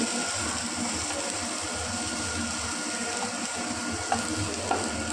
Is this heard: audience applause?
no